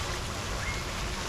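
Water flows steadily at a resort property in Akumal, a continuous broadband rush with no breaks or distinct splashes.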